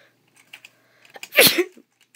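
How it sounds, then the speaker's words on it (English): A single sharp, close sneeze bursts out after a few faint clicks and a quick intake of breath. "I just sneezed all on the phone"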